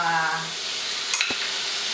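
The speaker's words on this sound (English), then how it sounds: "we're going to fry it in a little bit of olive oil to make it nice and crispy" Jerk-marinated jackfruit fries in olive oil in a pan, giving a steady broadband sizzle with a brief clatter of stirring partway through.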